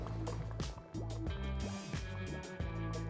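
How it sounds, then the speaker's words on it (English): Vietnamese chicken ragout simmers in a pot after an hour of cooking, giving a close, steady wet bubbling with soft popping drips and gurgles throughout, no voices. "We've cooked this for 1 full hour, simmered, and this is what it's looking like simmering."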